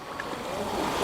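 Water drains out from beneath a pure rubber Kerala-style dairy-farm mat in a short, soft, continuous trickling flow that swells slightly toward the end.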